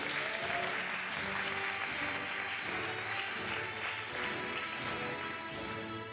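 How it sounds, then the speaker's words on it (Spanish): An audience at a 2020 Bible institute graduation ceremony claps warmly in a sustained, even round of applause that carries on at moderate volume without speech. "Recibamos con un fuerte aplauso a Scarlett Sierra"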